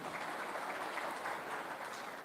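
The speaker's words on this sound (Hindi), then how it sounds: "मैं चाहूंगा उनकी सोच के लिए हम सब मिलकर के एक बार जरा जोरदार तालियां दे सकते हैं" An audience applauds for actor Suniel Shetty at the Amar Ujala Uttarakhand Samwad event, giving a steady, even burst of clapping throughout.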